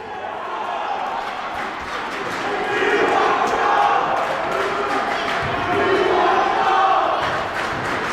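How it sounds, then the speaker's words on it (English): A gym crowd at a high school boys basketball game chants "We Want Joe" in a steady, swelling roar that grows louder midway, with scattered shouts and ball bounces mixed in. "Chance of "We Want Joe" from the crowd."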